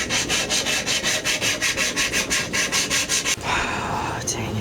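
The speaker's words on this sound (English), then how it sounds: "There's just a little bit more work with some sandpaper" Sandpaper rubbed rhythmically back and forth over a Krieg's Buzz-Axe costume prop, loud, close, steady scratchy strokes, then a shift to a continuous smoother rub.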